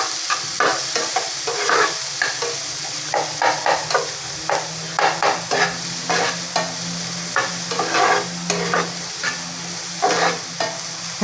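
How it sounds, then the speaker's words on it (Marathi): Finely chopped onion frying over high heat in a pan for masala pav, a steady sizzle broken by repeated scraping stirs of a spoon, close and fairly loud with no talk. "कांदा आपल्याला छान गुलाबी रंगावर परतून घ्यायचा"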